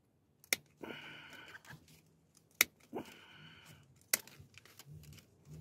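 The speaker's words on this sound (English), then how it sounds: "I get this snipper, and I cut it" Hand snips cut through mesh bug screen for a car camper, giving two sustained crunching, rasping cuts with sharp clicks as the blades open and close, close and fairly quiet with no talking.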